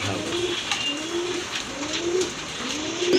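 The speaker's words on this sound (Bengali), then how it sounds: "এখানে কিন্তু আরেক জোড়া কবুতর আছে দেখতে পাচ্ছি" Pigeons coo nearby in a repeated low, rolling rhythm, several calls in close succession over a faint background hiss.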